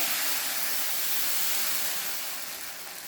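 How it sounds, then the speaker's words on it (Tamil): Dosa batter hits a hot dosa griddle with a steady, loud sizzling hiss that fills the whole stretch and fades slightly toward the end, with no voices. "தோசை கல் நல்லா காஞ்சிடுச்சு இப்போ தோசை ஊற்றிக்கலாம்"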